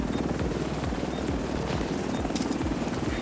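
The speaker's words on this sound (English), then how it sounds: "Helo will depart in 30 seconds" Helicopter idling for a pickup in the video game The Division 2, a steady rotor thump with a low rhythmic whop under a constant engine roar, close and continuous.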